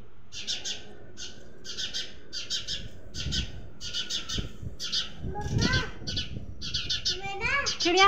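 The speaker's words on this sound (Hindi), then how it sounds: "चिड़िया को को को को कर रही है" Outdoors in the hills, a bird repeats a rapid, bright chirping call in steady clusters, with faint rustling, low background noise and brief children's voices underneath.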